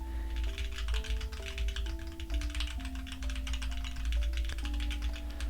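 Typing on a custom wireless Reviung41 mechanical keyboard, a steady run of quick, close key clicks and taps with a constant low hum and tonal music-like notes underneath, no speech.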